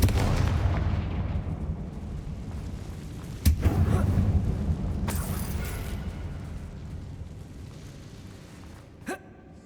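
Confringo explosion spell in Hogwarts Legacy, a sharp blast that hits partway through with a rumbling decay, set against a low ambient drone, followed later by a smaller impact.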